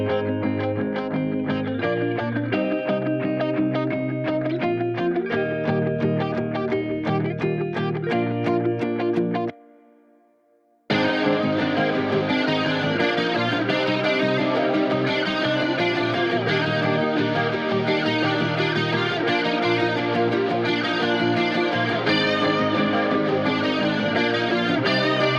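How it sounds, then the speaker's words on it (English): Layered, distorted electric guitars from a pop-rock track play loud and dense, with a brief drop to near silence before the full wall of guitars resumes and carries on steadily. "the entire guitar section sounds like this"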